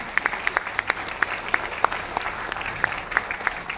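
Applause from a motivational seminar audience in Bhubaneswar, a steady wash of claps with individual sharp slaps standing out near the microphone, fairly loud throughout.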